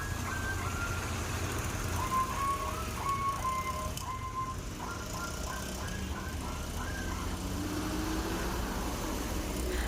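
Several buses stand idling at a roadside souvenir shop, their engines making a constant low rumble. Faint higher tones drift in over the steady background noise.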